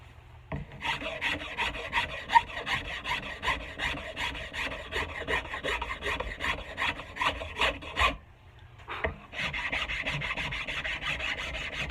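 A rasp files and smooths a wooden axe handle during re-hanging, rounding off tool marks in steady rhythmic rasping strokes, close and loud, with a short pause before the strokes resume.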